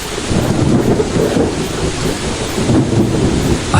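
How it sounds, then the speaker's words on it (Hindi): Heavy rain pours steadily while deep rolling thunder rumbles throughout, loud and close, with no voices. "बारिश और भी तेज हो गई। कड़कड़ाती बिजली आसमान को चीर रही थी।"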